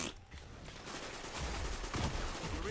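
Rapid bursts of automatic gunfire in the shooter game Destiny, dense and continuous across the moment with no clear speech.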